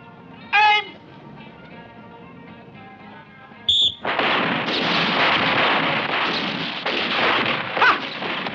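Gunfire on a shooting range's firing line, a single sharp crack followed by a sustained loud burst of shots and blasts, close and dense.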